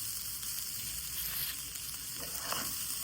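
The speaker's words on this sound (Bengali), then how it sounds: "যে পর্যন্ত লাল না হবে ওই পর্যন্ত আমি ভালো করে ভেজে নেব, নিচে যাতে লেগে না যায়, বারবার আপনার নাড়তে হবে" Chinigura rice fries in a pan for plain pulao, giving a constant close sizzle with faint scraping as it is stirred repeatedly, with no talk.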